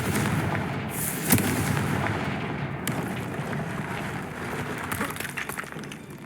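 A Confringo blasting spell bursts in Hogwarts Legacy, a sharp explosive crack near the start followed by a rumbling, crackling blast and a dense, sustained wash of fiery noise that lingers steadily to the end.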